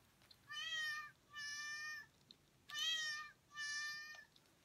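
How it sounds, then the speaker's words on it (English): Cat keychain toy producing electronic meows, four evenly spaced, tonal mewing calls each lasting about half a second, clear and close against a quiet background. "I got this cute cat keychain and it meows"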